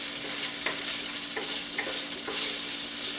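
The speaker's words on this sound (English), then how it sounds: "I just want to get this stirred in first." Veggies and stuffing mix are stirred in a pan over a steady background sizzle, with a few soft scraping strokes close by and no voices.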